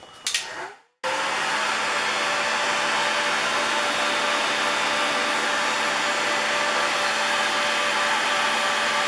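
A heat gun blows hot air onto the high-density plastic of a Kubota snow blower shoe extension, a steady loud broadband whoosh running continuously after a short click and brief pause at the start.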